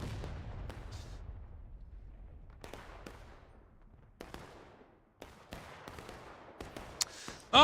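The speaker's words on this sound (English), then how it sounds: "The Union put a lot of effort getting that cannon ready" Cannon artillery fire in the War of Rights video game, several distant booming shots spaced apart, with sharper cracks of gunfire increasing toward the end.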